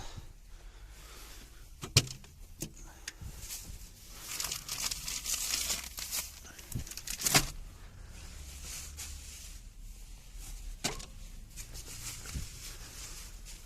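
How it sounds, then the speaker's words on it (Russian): Plastic bags and food packaging crinkle and rustle while groceries are packed into a truck cab refrigerator, with intermittent close crackling, a few sharp knocks and thuds, and no talking. "Сейчас еду сложу в холодильник."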